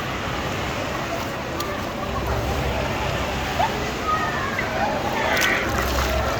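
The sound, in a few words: sea waves at Cox's Bazar beach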